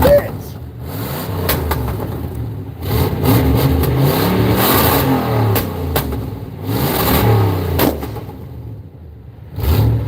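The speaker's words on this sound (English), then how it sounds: "The muffler is no good." Car engine with a broken, holed muffler revs loudly in repeated rising bursts with a rough, clattering exhaust rasp between dips toward idle, close by, with voices talking over it.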